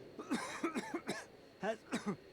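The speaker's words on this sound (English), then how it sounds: "He is coughing." A man coughs repeatedly in short, harsh bursts, about eight coughs in quick succession with brief pauses, close and clear, in the video game Red Dead Redemption 2.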